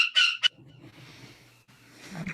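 A small bird gives a few sharp, bright calls in the opening half-second, close and clear, followed by quieter low rustling and faint background noise.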